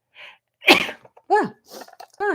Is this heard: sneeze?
yes